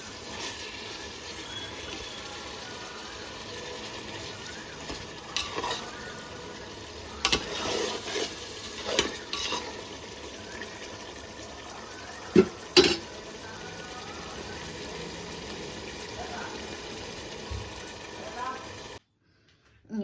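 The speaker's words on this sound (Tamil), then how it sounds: "மாமா கிண்டிகிட்டே இருக்கட்டும்." Chicken biryani is stirred in a pot with scattered scrapes and clinks of a utensil against metal over a quiet kitchen background, and a cut to silence near the end.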